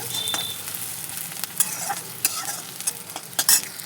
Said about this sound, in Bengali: ওই তেলের মধ্যেই আমি লঙ্কা আর পেঁয়াজ দিয়ে দিলাম